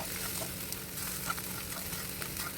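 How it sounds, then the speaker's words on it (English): Eggs scrambled with a fork in a pan over a low flame for spicy Indian-style anda bhurji, with a continuous close sizzle and soft scraping stirs throughout. "gently scramble the mixture with the help of a fork"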